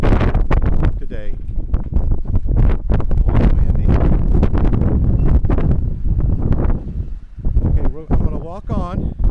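Strong wind blowing outdoors near a double stone arch bridge over a creek, buffeting the microphone in loud, irregular gusts and rumbles, with faint rustling underneath.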